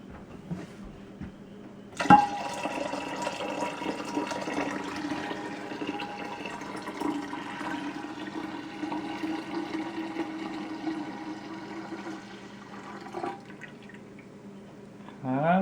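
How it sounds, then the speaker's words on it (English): Tap water runs steadily into a one-gallon container for brewing kombucha, a continuous near splashing and filling that starts after a brief quiet moment and carries on for about eleven seconds. "Now I'm going to add water until I get a 1/2 gallon, or I'm sorry, a full gallon"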